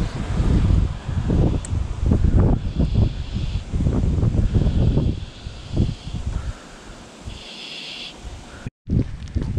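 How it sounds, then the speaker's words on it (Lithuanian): Strong gusts of wind buffet the microphone during a fishing trip in Bosnia, roaring in loud uneven surges with rustling in the background, briefly cutting out near the end. "Ai, koks gūsis užpūtė."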